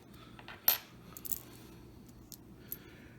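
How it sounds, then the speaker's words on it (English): Lincoln cents from the 1920s clink as they are dropped one at a time during sorting, with a sharp metallic drop near the start, a softer cluster after it, and two faint later clicks over a quiet room. "what I'll do is off camera, I will go through all of the mint mark coins"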